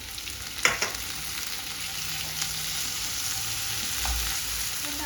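Tomatoes frying with softened onions in a pan, a steady close sizzle with a brief clatter near the start as they drop in and faint stirring, no voices.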